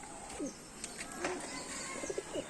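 Pigeons, including adults with young chicks, give soft low coos and faint chirps nearby, quiet, intermittent calls over a muted background.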